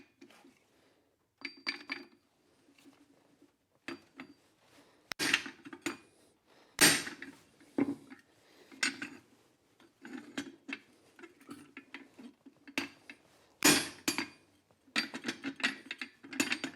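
Blacksmith working a fuller on hot steel while forging a slingshot, producing a quiet, irregular series of sharp metallic taps and clanks, some in quick bursts, separated by short pauses.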